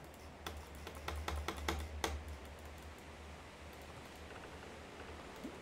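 Typing on an old, worn computer keyboard: a quick run of sharp key clicks for about two seconds, then quieter scattered taps over a steady low hum, faint and close.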